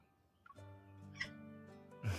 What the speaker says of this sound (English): You might hear Price meowing.